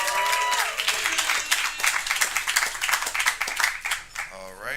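A comedy-show audience claps and cheers loudly and steadily throughout, dense applause with scattered whoops, then thinning slightly near the end.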